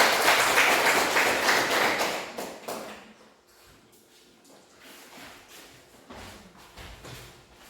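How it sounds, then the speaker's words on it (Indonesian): Classroom applause from students after a group presentation, a dense burst of clapping for the first three seconds that quickly thins out into scattered claps and shuffling. "Mari kita berikan aplaus"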